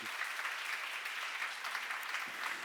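Audience at a seminar clapping steadily, a bright continuous patter of many hands at moderate distance, with no talk over it.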